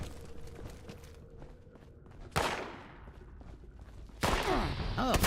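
Gauss pistol fire in the video game Fallout 76, two sharp, powerful shots with a ringing electric tail, separated by a couple of seconds, over quiet footsteps and faint ambient noise.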